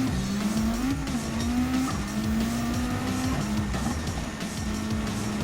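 A Subaru WRX Group B rally car in Gran Turismo 7 drives a World Rally Challenge stage, its engine droning loud and steady with shifting pitch and gear changes, and no one speaking over it.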